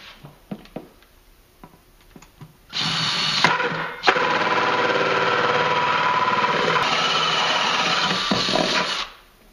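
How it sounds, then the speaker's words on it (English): A few taps and clicks, then a power drill with a 3-inch hole saw grinds steadily and loudly for about six seconds before winding down. "change to the 3-inch hole saw. We're going to go ahead and drill our holes."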